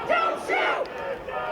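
Protesters gathered near the White House in Washington raise a brief, loud surge of shouting and chanting that sounds like a massed crowd cry.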